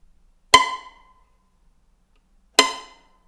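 Violin pizzicato played with a guitar pick, two sharp plucked notes about two seconds apart, each with a crisp bright attack and a short ringing decay, close and clear in silence.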